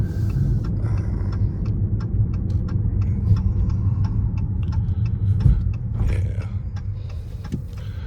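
Dodge Challenger riding on 24-inch wheels, heard as a steady engine rumble and road roar from a driving car, continuous and fairly close, with a few sharp clicks and knocks over the drone.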